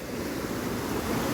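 Clear spring water in a valley near Islamabad rushes in a steady, close hiss of flowing water without pause.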